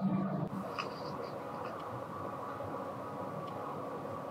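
A Bangkok MRT metro train hums and rumbles steadily in a station, with a louder burst at the start settling into an even whir and faint announcement tones.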